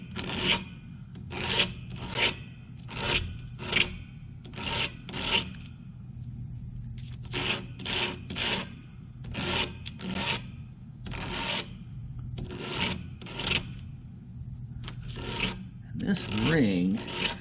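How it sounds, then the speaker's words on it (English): A part for a Morris Models two-stroke engine kit is sanded by hand, giving close, rhythmic rasping strokes in short bursts, repeated over a dozen times with brief pauses between. "going to do a little sanding"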